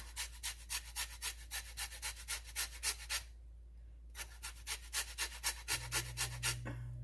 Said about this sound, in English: grate the rind off of it.